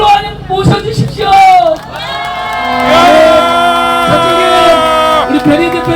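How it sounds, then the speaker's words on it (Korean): A large outdoor crowd at a political candlelight rally in Korea cheers and shouts loudly, with whoops and a sustained roar of voices rising and holding for several seconds, close and dense, with an amplified voice briefly over the start. "두 분, 미디어치의 변희재 대표님과 평화나무의 김용민 목사님을 큰 박수로 모셔주십시오."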